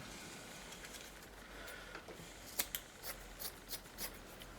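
Scissors snip through an old cotton t-shirt to make cloth rags, a series of quiet, crisp cuts in short bursts, close up and alone against low background hum.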